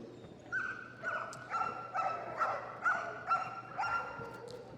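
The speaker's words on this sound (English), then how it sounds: "the dogs are frustrated into a bark" Police dogs from a display team bark repeatedly during bite-pillow play at the Crufts show, giving a rhythmic series of about eight sharp barks under a distant crowd-hall background.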